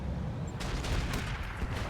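Eye rockets launched from a mech in the RogueTech BattleTech game, a dense, loud volley of rapid crackling bursts running continuously through the short moment, with no voices.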